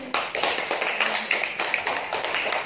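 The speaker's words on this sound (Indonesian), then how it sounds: "Tepuk tangan buat Roni." A class of school pupils claps for a classmate, a quick, steady patter of close, sharp hand claps.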